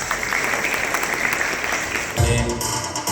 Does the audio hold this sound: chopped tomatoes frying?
no